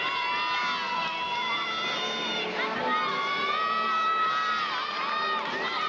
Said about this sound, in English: You hear her teammates screaming in the background, giving it as much support as possible.